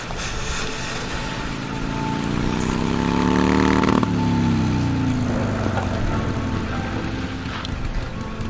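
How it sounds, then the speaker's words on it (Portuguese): Motorcycle engine in the video game Days Gone, a steady droning hum that swells in pitch and loudness toward the middle, then settles back, with no talking over it. "A moto dele, que foda."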